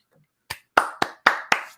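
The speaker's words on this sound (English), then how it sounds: "I'm clapping for you" A single person claps five times in an evenly spaced rhythm, close and crisp, following a brief faint sound at the start.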